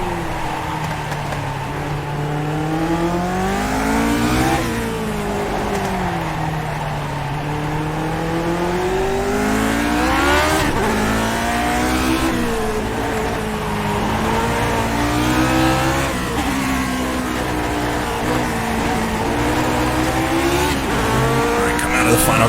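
A Lotus 49 race car in iRacing at Okayama, its engine note rising and falling steadily as it revs up through the gears and drops back under braking, with occasional tire squeal, loud and close throughout.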